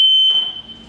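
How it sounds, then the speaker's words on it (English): A single sharp electronic beep from a reversing camera transmitter's beeper confirming power is connected, a loud pure tone that holds briefly and then cuts off into quiet. "the beeper will beep to indicate that it is connected"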